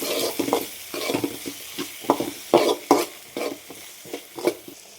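Tomato and onion fry in a pan for a chicken gravy, with a spoon scraping and stirring in an uneven rhythm over a soft sizzle, close up and without speech.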